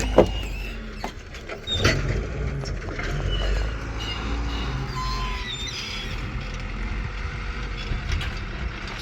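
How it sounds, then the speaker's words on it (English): Front loader shifting junked cars around a junkyard, distant clanks, scrapes and diesel rumble scattered over a noisy outdoor background, with no talk. "Just casually moving cars around with the front loader."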